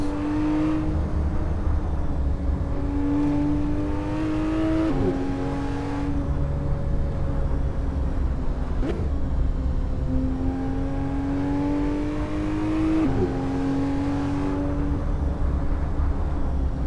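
A car races along Mulholland Drive in the Assetto Corsa driving game, its engine droning steadily and rising in pitch through each gear before dropping at the shifts, continuous and close throughout.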